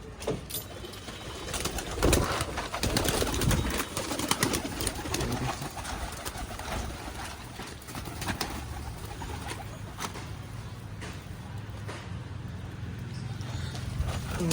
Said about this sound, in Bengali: সব পায়রারা দেখতে পাচ্ছ বেরোনোর জন্য